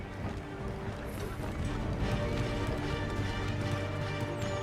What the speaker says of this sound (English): I'll arrange for horses while you do that.